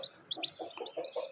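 Newly hatched chicks cheep in quick, high, thin peeps alongside a hen's low clucks, the two sounds alternating in a short, close burst.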